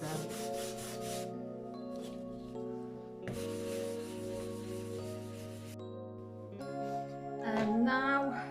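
A cloth rubs and wipes excess brown wax off a wooden mirror frame, giving steady close swishing strokes in several long passes with short pauses between them, over a faint tonal background hum.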